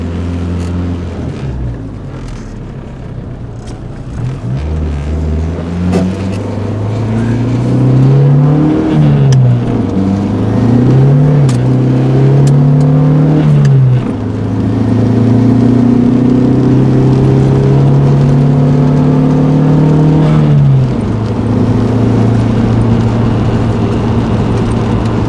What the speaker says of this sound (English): all the cars are noisy